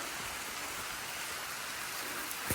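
Steady rain pours during a mountain trail run at San Rafael, a dense even hiss of drops hitting the surroundings, fairly faint and continuous, with one brief thump near the end.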